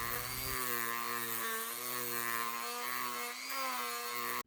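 A Dremel rotary tool hogs out the inside of wooden sunglasses, giving a steady, close, high-pitched whine. Its pitch wavers slightly as the bit bites into the wood, and it runs continuously for about four seconds before cutting off.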